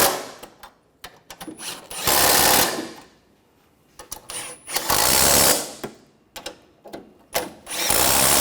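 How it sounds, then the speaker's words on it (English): Power tool tightening a bolt on a 2013-2019 Ford Escape 2.0L AC condenser, with several loud close whirring bursts of a few seconds each separated by quieter gaps and small clicks. "And tighten this bolt."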